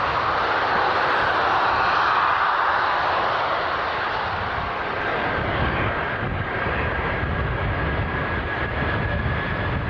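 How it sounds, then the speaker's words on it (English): Jet engines roar at full power as a lightly loaded airliner takes off at the 2004 Farnborough air show, loud and steady, the rumble slowly shifting as it moves away. "it starts with just a normal full power takeoff"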